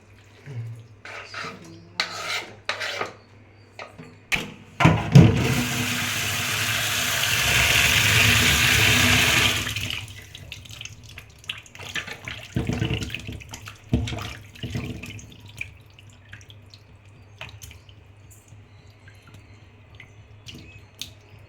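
Tap water gushes steadily for several seconds while raw chicken is rinsed for a chicken kuzhambu, with scattered kitchen clatter and splashes before and after the flow. No one speaks.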